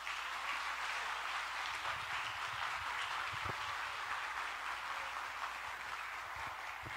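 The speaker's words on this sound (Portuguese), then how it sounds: "Pode aplaudir, Senhor." A church congregation claps steadily during an evening service, a dense, sustained wash of applause from many hands that holds at an even level for the whole stretch, with no voice standing out above it.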